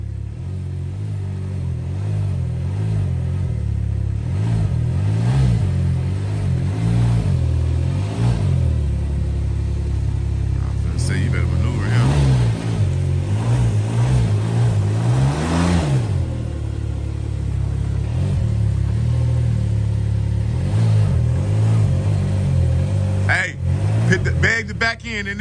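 A Can-Am Ryker three-wheeler's engine revs repeatedly as its wheels spin in snow, a loud, close, rising-and-falling drone with surging bursts, while people talk over it.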